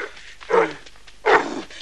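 In a 1986 Soviet family drama, a male dog gives two loud, close barks about three-quarters of a second apart, with quieter growling and panting between them.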